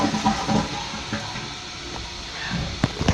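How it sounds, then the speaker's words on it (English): A 2012 Kohler Wellworth toilet flushes with a loud, steady rush of water close up, ending in a few gurgles and clunks as the tank empties. "It has a weird flush."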